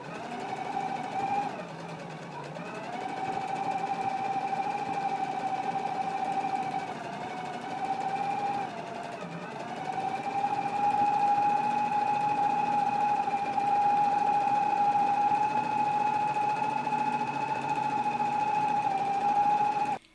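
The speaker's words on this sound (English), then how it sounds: "take it to the machine and we're going to stitch down both long ends of the carrier" A sewing machine stitches down both long edges of a pant belt carrier strip, humming steadily and close for about twenty seconds with only slight dips in speed.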